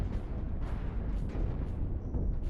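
Point defense turrets on a spaceship in the space combat game Cosmoteer fire continuously, a dense rumbling barrage of rapid blasts at steady loudness throughout, with no talk over it.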